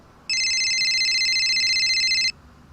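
A single electronic telephone ring, a bright steady warbling tone lasting about two seconds, starting and stopping abruptly against a quiet background.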